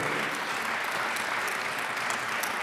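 A short burst of steady crowd applause at a lawyers' congress closing ceremony for award laureates, dense and even from start to end, no voices on top.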